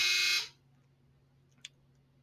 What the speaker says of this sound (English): I don't know if the mic caught that buzzer